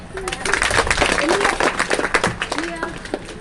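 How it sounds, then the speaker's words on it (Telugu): Children at a school birthday celebration clap their hands in quick, uneven bursts, close by and mixed with voices. "క్లాప్స్ కొట్టండి"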